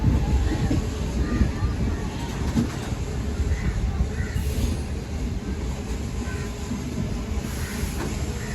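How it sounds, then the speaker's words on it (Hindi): Shalimar Express passenger train rolling slowly through Gojra railway station, a steady, loud rumble of wheels and carriages with faint rhythmic clatter and occasional squeals, heard from inside the train. "गोजरा रेलवे स्टेशन पर दाखिल हो चुकी हमारी गाड़ी और हल्की रफ्तार में गुजर रही है यहाँ से।"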